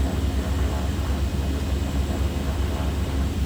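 Airplane engine in a flight video game hums steadily at low power while the plane taxis toward the terminal, a constant droning rumble with no talking.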